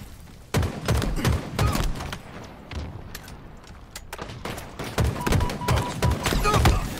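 Sniper rifle shots in Halo Infinite ranked play ring out as several sharp, loud cracks with impact thuds amid busy gunfire and game noise, spread across the stretch.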